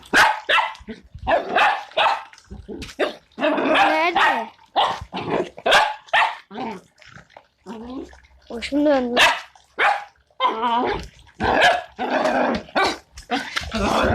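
A dog barks and growls in short, repeated bursts close by, while a person talks excitedly over and between the sounds.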